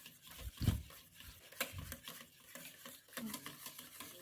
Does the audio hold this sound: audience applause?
no